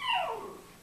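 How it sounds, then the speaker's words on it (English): Dog whimpering in the background, a single brief falling whine, moderately faint. "that was my dog in the background"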